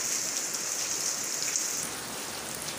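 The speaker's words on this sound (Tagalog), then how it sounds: "Perting kusuga sa ulan." Heavy rain falls in a soft, even hiss that stays constant throughout, fairly faint, with no voices over it.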